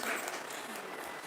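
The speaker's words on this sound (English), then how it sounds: "Big rounds of applause to Ms. Tehseen Sakina ma'am." A short burst of crowd applause, many hands clapping together in a dense wash, with a voice speaking over it.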